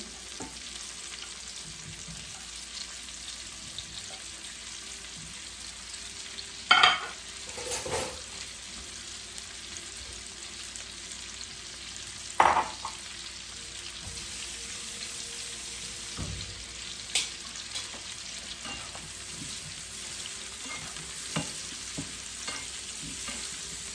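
Pepper and tomato fry and sizzle in a pan for Jamaican-style ackee and saltfish, a steady crackling hiss broken by a few louder clatters of stirring.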